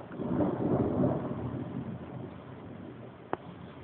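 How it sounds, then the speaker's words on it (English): An early-morning thunderstorm in Calahonda, Spain, with a low rolling rumble of thunder and steady rain drumming on a roof, loud at first then easing, and a single sharp knock near the end. "I can hear rain on the roof."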